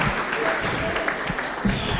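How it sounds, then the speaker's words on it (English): Applause from a graduation audience at a data protection certificate ceremony, a dense wash of clapping mixed with murmured voices for two seconds. "I think they deserve a clap."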